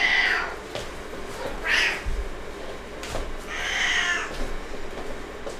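A pet cat, roused from sleep, lets out a few drawn-out meows spaced across several seconds, fairly close and clear over a low background rumble with no talking.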